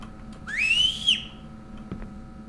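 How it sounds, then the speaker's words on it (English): A single short whistle is blown close to the microphone, rising quickly then holding a bright tone for about half a second over low background hum. "Did I just whistle?"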